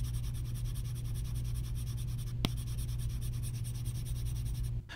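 An Apple Pencil scratches across a tablet fitted with a Paperlike matte screen protector, producing a continuous soft papery scraping with one sharp tap midway, close and alone without speech.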